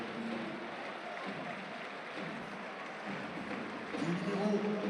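Stadium crowd at an RC Strasbourg versus FC Nantes football match applauds steadily as a player is substituted, a broad distant wash of clapping that swells near the end.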